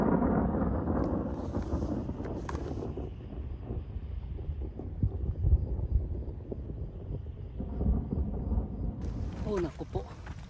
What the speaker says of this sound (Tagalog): Lakas na ng kidlat. Tapos lumakas na yung ulan.